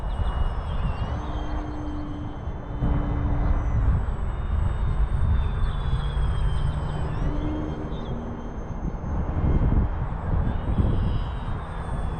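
An RC airplane flies in to land in high winds, its small engine droning steadily with a whining pitch that rises and falls as it passes, under heavy wind rumble throughout.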